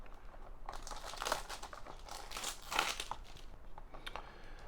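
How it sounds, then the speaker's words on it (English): Product packaging is torn and crinkled open close by, giving a quiet run of crackling, rustling bursts of plastic or foil with no voices. "the packaging is extremely good and very convenient, easy to tear"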